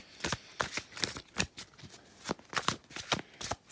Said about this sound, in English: I'm going to shuffle the cards while I get some channeled messages